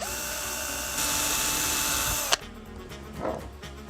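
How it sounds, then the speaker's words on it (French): A small drill bit boring two small holes while fitting a standard ball joint for a Nikonos SB105 underwater flash; a steady, close whine runs for over two seconds and then cuts off sharply, leaving a quieter room. "je vais faire d'abord deux petits trous avec une petite mèche"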